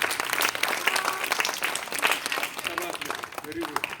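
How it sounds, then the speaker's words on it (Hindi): Clapping at a school annual exam results ceremony as top-ranked students are announced, a steady round of applause from the gathered audience, moderately loud and continuous with a few faint voices mixed in. "जोरदार तालियों से"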